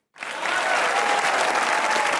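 A studio audience at the Hasna Mana Hai comedy talk show bursts into applause after a brief silence. Dense, close clapping sustains evenly to the end.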